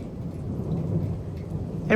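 Close cloud-to-ground lightning in the outer bands of a severe thunderstorm with 60 mph gusts: a low, sustained thunder rumble mixed with steady rain, moderately loud throughout and ending in a brief sharper burst.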